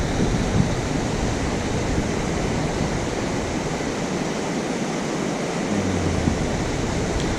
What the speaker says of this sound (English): I can't hear him, it's too loud,